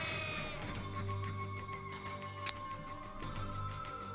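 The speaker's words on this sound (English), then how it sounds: "There we go. We got sheep." Sheep bleat in the Primitive Society Simulator video game, a few soft calls over a steady game ambience and music bed, with one brief sharp click partway through.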